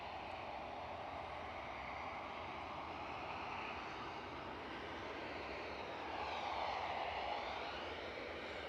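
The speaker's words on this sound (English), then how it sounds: "Ryanair's off to Brussels." A Ryanair jet taking off at Edinburgh Airport roars steadily in the distance, with a broad engine rush that swells slightly toward the end. No voices are heard.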